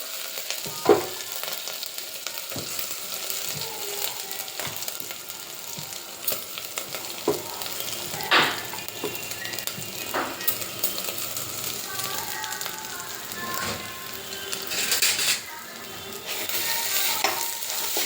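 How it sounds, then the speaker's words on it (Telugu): Food fries and sizzles in ghee in a pan, with a spoon stirring and scraping it now and then. The hiss is steady and close, with soft clinks throughout and someone talking over it at times. "అది అడగంట కట్టకుండా ఇట్లా ఒక రెండు నిమిషాలు వేయించండి"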